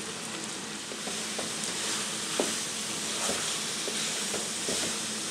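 Spices with crushed dried fenugreek leaves, half a spoon of garam masala, lightly roasting in a pan for aloo gobi matar, giving a steady soft sizzle with a few faint stirring clicks, no talking.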